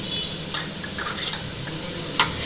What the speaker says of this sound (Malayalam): ഇനി ആ പഞ്ചസാരയുടെ വെള്ളവും ആ പൈനാപ്പിളിലെ വെള്ളവും ഒന്നും നമുക്ക് വറ്റണത് വരെ ഇതേപോലെ ഒന്ന് ഇളക്കി ഇളക്കി യോജിപ്പിച്ചെടുക്കാം